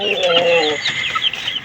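Laying hens clucking up close in a poultry farm coop, a steady, busy chorus of hen calls and rising clucks throughout, with a brief voice at the end.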